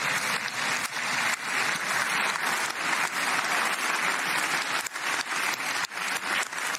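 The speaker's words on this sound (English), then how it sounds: "Standing ovation there in the Knesset this morning" A standing ovation in the Knesset, a dense, sustained roar of clapping from a large crowd, loud and continuous throughout.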